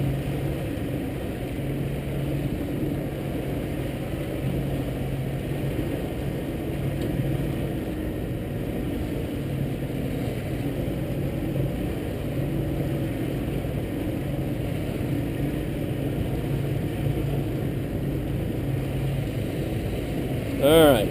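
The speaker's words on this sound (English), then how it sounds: "What I normally do is bring the boat on plane" Steady loud motorboat engine drone with rushing water from a 2003 Seaswirl 1851 Striper center-console boat coming onto plane, holding a constant roar as it runs at speed.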